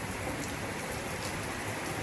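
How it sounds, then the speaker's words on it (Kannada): Steady evening rain pours without pause during a temple festival at Kukke Subrahmanya, a dense, even hiss of drops close by with no voices. "ನಿರಂತರವಾಗಿ ಮಳೆ ಸುರಿಲಿಕ್ಕೆ ಆರಂಭವಾಗಿದೆ"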